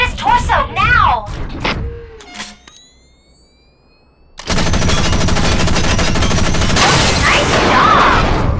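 Mech gunfire in the video game Front Mission Evolved: a voice is heard briefly, then a short near-silent pause, then loud, sustained rapid machine-gun fire.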